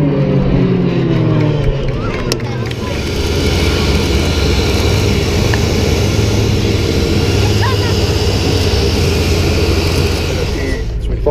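A loud, sustained roar of a large bomber aircraft's engines passing nearby at the RAAF Point Cook air show, filling the whole stretch with a steady droning rumble over faint crowd noise.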